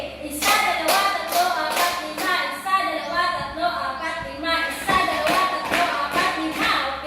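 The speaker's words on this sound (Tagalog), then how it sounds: "Bigyan ng 5 palakpak, 5 kembot, at 5 padyak ang mga sarili." Students in a classroom clap in repeated bursts of five, sharp hand claps mixed with stamping and voices, loud and close throughout.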